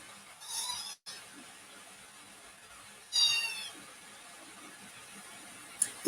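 A female cat meows twice nearby in a quiet room, two short separate calls a few seconds apart, followed by a brief sharp noise at the end.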